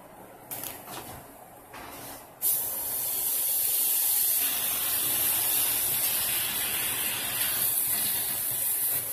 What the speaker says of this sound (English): I'm just gonna use the kawali or the frying pan